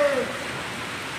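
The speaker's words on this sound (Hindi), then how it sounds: "बारिश तो नहीं रुक रही है" Steady rain pours down in a dense, even hiss, close by and fairly loud, with no breaks.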